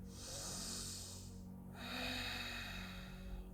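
A long, deep inhale during a yoga sun salutation sequence is heard up close as a steady airy rush, then a second drawn breath follows after a short pause.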